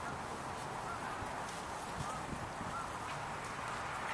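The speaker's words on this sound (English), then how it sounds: "She can hear the geese flying overhead." Distant honking of geese passing overhead, faint over a steady outdoor hiss, with a few calls scattered through.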